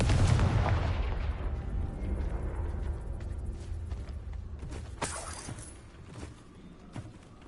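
A Confringo blast spell in Hogwarts Legacy bursts in a loud, close explosion that rolls into a long, rumbling decay, with a few sharper crackling impacts later in the tail.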